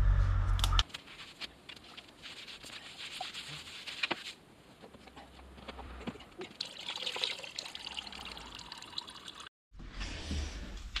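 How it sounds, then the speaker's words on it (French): Water dribbles and patters steadily from a holed bucket, a continuous low trickle with scattered drips, brief stronger splashes at the start and end, and a short gap of silence near the end. "j'en fous partout comme d'habitude puisque mon seau est percé"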